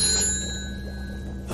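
A telephone bell rings in a bright, sustained metallic trill at moderate volume, fading out after a second or so against a faint background hum.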